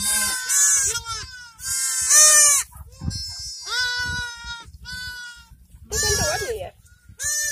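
Polish heath sheep (wrzosówka) ewes and newborn lambs bleating in a lambing pen, repeated loud close calls overlapping one another, with low handling noise between cries.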